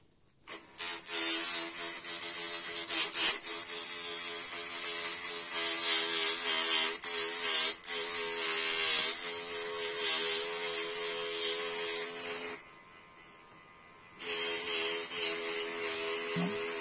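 A high-pitched Dremel-style mini rotary tool spinning a homemade abrasive sanding disc whines steadily with a grinding hiss, running for several seconds, cutting out briefly, then starting again.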